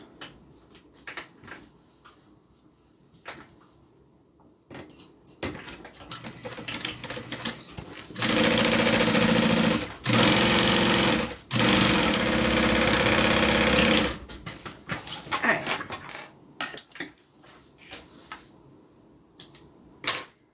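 A sewing machine runs a top stitch on a zippered bag, a loud, fast mechanical whir in three bursts of a few seconds each with brief pauses, framed by quieter clicks and handling of fabric.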